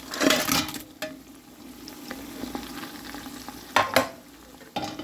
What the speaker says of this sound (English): the okra is cooking right here.